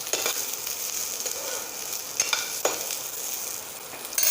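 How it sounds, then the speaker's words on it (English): Lauki pieces tossed into a hot pan with fenugreek seeds sizzle steadily, with a few sharper scrapes as they are mixed, close and without speech. "Now we are going to add our lauki pieces to it. Mix all the ingredients."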